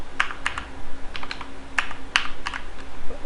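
Keystrokes on a computer keyboard while writing C++ class code, a quick irregular run of crisp close clicks and taps with short pauses, no talking.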